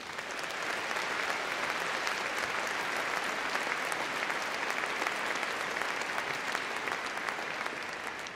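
Sustained, dense applause from a large indoor crowd at the Crufts 2012 dog show, greeting the Terrier group judge, holding steady and loud throughout without a break.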